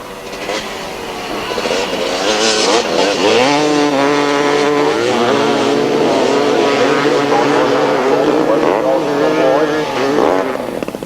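250cc KTM grasstrack racing motorcycles roar loudly and continuously at a 1997 summer meeting as riders charge into the first turn, engine notes rising and overlapping with a commentator talking over the din.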